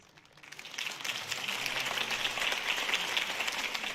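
A large crowd at a campaign speech for a city election breaks into applause, the clapping swelling quickly from quiet to a dense, steady roar that holds through to the end.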